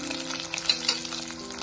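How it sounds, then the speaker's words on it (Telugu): Tempering seeds and crushed garlic cloves crackle and sizzle in hot oil for raw tamarind dal, a dense, continuous close-up frying hiss with small pops. "పోపు గింజలు, చితక్ కొట్టుకున్న వెల్లుల్లి రెబ్బలు"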